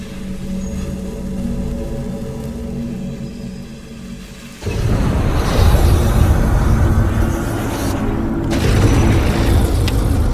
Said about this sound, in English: The flamethrower fires burning gasoline over 60 feet and instantly incinerates the target Richard has set up.